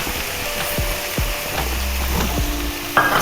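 Spices and bharali fish sautéing in a pan, a steady soft sizzle with scattered clinks and scrapes of a stirring utensil, close and moderately loud, with no talk.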